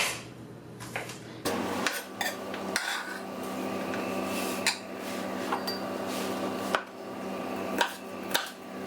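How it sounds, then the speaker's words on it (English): Garlic being chopped with a chef's knife on a cutting board, a series of sharp, irregular knocks and taps up close, with scraping and clattering between strikes and no talking. "we're going to turn it this way and we'll cut it into little pieces"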